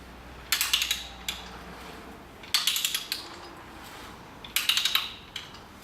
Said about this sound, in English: I'm cutting a 3/4 inch BSPT thread, taper thread